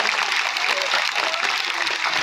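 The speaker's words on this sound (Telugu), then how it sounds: "గట్టిగా చప్పట్లు కొట్టాలి అందరూ" Loud, dense applause from a crowd of devotees at a large padayatra gathering in Kodumuru, Kurnool district, sustained evenly throughout without a break.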